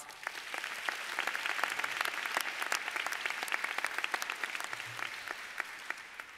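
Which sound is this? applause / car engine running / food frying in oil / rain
applause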